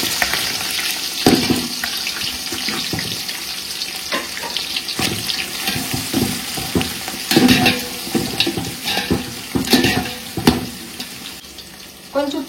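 Onions with green chillies and cumin frying in a pan for mutton donne biryani, a steady close sizzle with stirring clatter and scraping bursts throughout, no talking.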